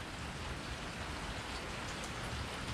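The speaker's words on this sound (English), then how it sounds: "Rain." Steady rain falling outdoors, a dense, even patter and hiss that fills the whole stretch without a break, close and fairly loud, with no voices.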